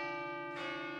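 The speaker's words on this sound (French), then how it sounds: "les cloches de l'abbatiale sonnent comme à son habitude" Abbey church bells ring on a Sunday morning in a village, a single resonant, humming bell tone sustained over a moment, with a fresh strike swelling partway through.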